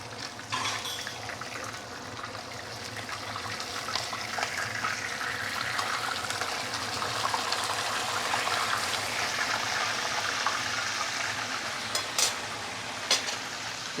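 A fish tail frying in a pan over medium-high heat, steady dense sizzling and crackling oil that holds evenly throughout, close and moderately loud with a few sharper pops.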